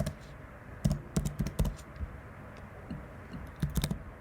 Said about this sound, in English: For the breakout room 1, you can type the email address here,